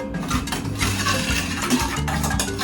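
Chili powder being stirred into a Thai rice noodle salad, with a utensil scraping and clinking against a bowl in repeated close strokes, fairly loud and without talk.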